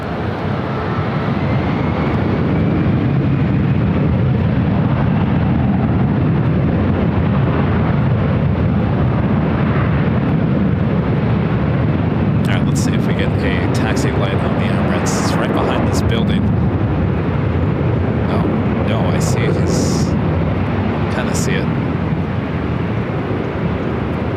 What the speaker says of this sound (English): Qatar Airways Flight 740 heading to Doha, A350-1000 taking off on the south side